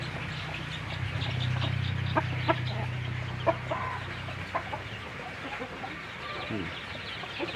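White village chickens cluck nearby in short, scattered calls over a low hum, with a person talking through part of it.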